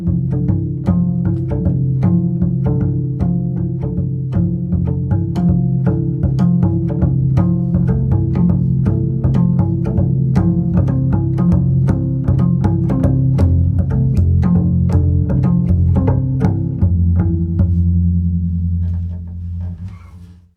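Double bass played with two-handed harmonics in a 3-against-4 polyrhythm, the tempo pushed at the change. Steady, dense pulsing of bell-like plucked tones alongside a sustained low line runs continuously, loud and close, with no talking, then fades at the end.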